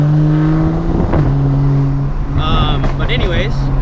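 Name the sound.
loud GT3 sports car passing by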